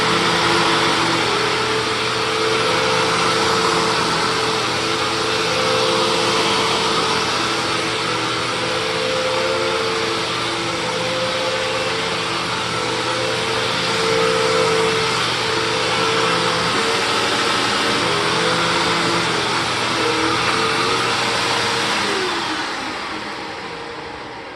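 A vacuum cleaner motor hums and whines steadily for a long stretch, then its pitch drops as it winds down near the end.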